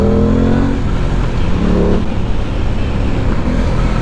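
An Aprilia Tuono 660 midweight motorcycle engine revs hard and close, a loud continuous roar with rising and falling pitch, recorded alone without talk.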